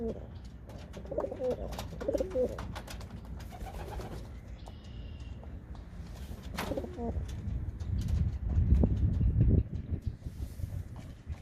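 Pigeons coo softly in low, rounded calls, repeating at intervals over a light background of wind and rustling.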